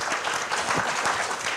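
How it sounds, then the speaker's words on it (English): Audience at a museum conversation event claps steadily and fairly loudly throughout, a dense, even burst of applause with no clear talk over it. "You can clap for that."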